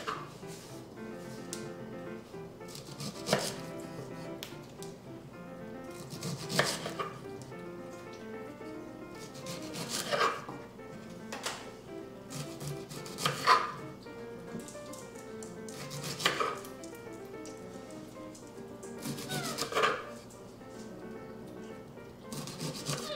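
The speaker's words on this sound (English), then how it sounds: "I'm going to start out cutting the Brussels sprouts" A knife slicing Brussels sprouts in half on a cutting board, giving soft, faint, periodic thuds and rubbing scrapes spaced a few seconds apart over quiet background.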